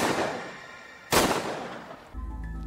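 Pistol shot in a film, one sharp, loud crack partway through that decays into a rumble, set between muffled dramatic background sound.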